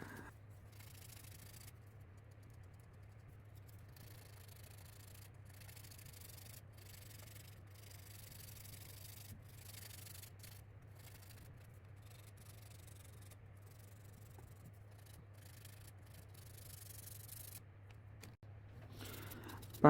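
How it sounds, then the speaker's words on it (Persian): A handmade astronaut necklace is sanded with 220 or 180 grit sandpaper, giving a steady, soft, close rubbing that continues for the whole stretch over a low hum. "اینجا معمولا من از سنباده کارکرده 220 استفاده میکنم یا 180"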